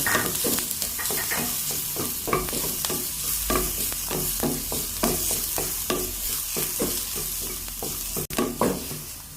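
Minced garlic sautéing in a pan, with a spatula scraping and stirring in a steady rhythm over a soft continuous sizzle, close and moderately loud with no talk.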